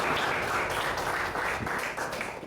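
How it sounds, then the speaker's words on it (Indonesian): A brief burst of dense clapping from a classroom audience at an Indonesian teacher-training session, loud and continuous for a couple of seconds. "Tepuk tangan untuk kita semua."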